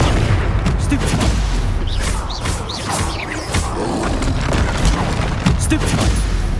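Spell combat in Hogwarts Legacy, with a Stupefy spell cast amid a dense, continuous barrage of booming blasts and impacts, loud and close throughout.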